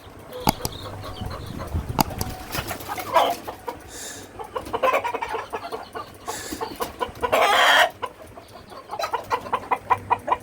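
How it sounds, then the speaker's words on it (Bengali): Australorp chickens cluck in a farmyard while a rooster lets out a few bursts, the calls coming close and loud in uneven clusters over steady background noise. "এই যে মোরগ"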